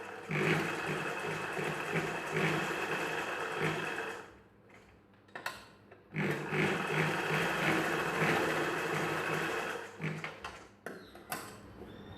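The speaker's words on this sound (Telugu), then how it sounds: "ఇలా క్లాత్ సాగకుండా చిన్నగా పట్టుకొని కొంచెం నిదానంగా కుట్టుకోండి, నీట్గా వస్తుంది" Sewing machine stitching a piece of a back-open blouse, run slowly: close, steady whirring runs with a short pause in the middle and a few brief stops and starts toward the end.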